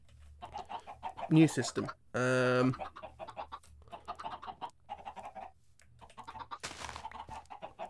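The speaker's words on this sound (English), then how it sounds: "There is a chance that we can actually use the chickens that are in there" Minecraft chickens cluck in short pixelated bursts, including one loud sustained squawk, while someone talks over the game near constantly.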